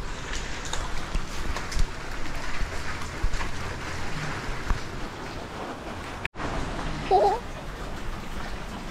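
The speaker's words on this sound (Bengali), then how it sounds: "বৃষ্টি হচ্ছে।" Steady rain falls outdoors on the way home in wet weather, a constant soft hiss with scattered drops, joined briefly near the end by faint voices.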